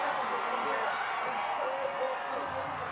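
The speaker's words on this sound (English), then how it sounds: "You can hear the crowd going wild" A high school football crowd cheering after a touchdown in a South Jersey group final, a broad, steady roar that fills the clip with a commentator talking over it.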